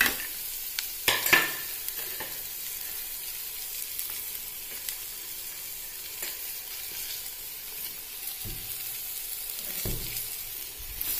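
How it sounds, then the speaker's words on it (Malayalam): Chopped beetroot and green chilli sizzle in a pan while being stirred, a quiet steady fry broken by sharp scrapes and clatters of the spoon, especially near the start, with no talking. "അതിനുശേഷം ഈ നുറുക്കി വെച്ചിരിക്കുന്ന ബീട്രൂട്ട് പച്ചമുളകും കൂടി ഇതിലേക്ക് ചേർത്ത് കൊടുക്കാവുന്നതാണ്"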